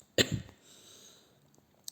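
A single short, harsh cough sounds close by, followed by near silence and a faint click.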